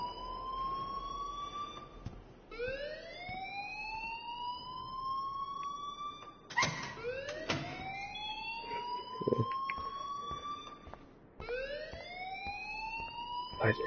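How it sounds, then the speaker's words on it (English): A building fire alarm in the game Life is Strange wails in repeated rising sweeps, each climbing tone restarting every few seconds, steady and moderately loud, with brief thumps and faint background sounds between cycles. "please turn off that alarm since that's your job."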